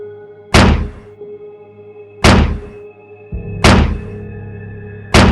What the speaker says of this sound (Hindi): उसने दरवाजे को कुल्हाड़ी से मारना स्टार्ट किया।